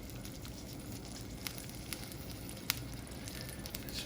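Fish fillet for tacos sizzling in a non-stick pan, a steady close hiss of frying with small crackles and pops and no voices.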